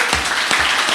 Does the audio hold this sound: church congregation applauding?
yes